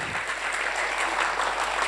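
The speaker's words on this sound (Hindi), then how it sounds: "एक शानदार प्रस्तुति के लिए कलाकारों के लिए एक बार जोरदार तालियां होने चाहिए।" Hearty audience applause rises for the performers after a stage play about the Rani of Jhansi, a dense, steady wash of clapping throughout.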